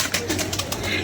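Several pigeons, part of a rooftop flock of around forty birds, coo softly and repeatedly in a steady low murmur against faint background noise, with no talking.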